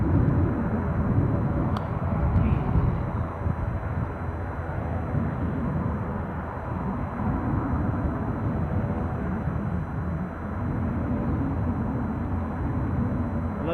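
Loganair airliner taxiing out at Aberdeen Airport, its engine roar a steady, broad rumble that holds at moderate distance throughout with no voices.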